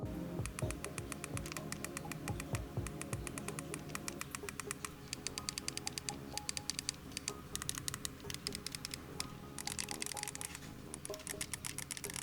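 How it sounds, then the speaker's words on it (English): Rapid, dense clicking of the loud, tactile shoulder buttons on an RG Rotate handheld game console, pressed over and over in quick bursts for about twelve seconds, close and crisp with no talking. "Now these shoulder buttons are very loud and clicky."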